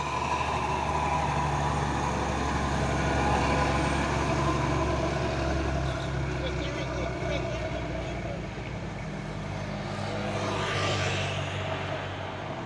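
A trailer truck hauling a giant 60–70 ton box load rolls along a slightly congested highway, its deep engine rumble steady and loud throughout, with someone talking over it.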